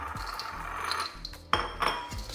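Strawberries and crumble stirred into white-chocolate popcorn in a bowl, a close rustling churn with a couple of sharp clinks of a utensil against the dish.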